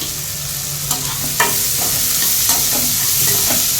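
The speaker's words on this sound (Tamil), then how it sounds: "இது நல்லா வதங்கணும் இது நல்லா கோல்டன் ப்ரௌன் ஆகட்டும்" Onions and green chillies with salt frying in a pan over a medium flame, a steady loud sizzle with occasional stirring scrapes, close and continuous.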